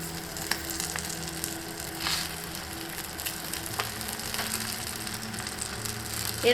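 Ghee being stirred into soybean biryani as it fries in a pan, giving a steady, moderate sizzle with a few soft scraping stirs, alone without talk.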